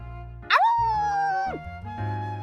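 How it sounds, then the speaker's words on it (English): A pet dog in the Love and Deepspace video game gives a single drawn-out, howl-like yelp that rises, holds and falls off, loud and close, with game music underneath. "Bark."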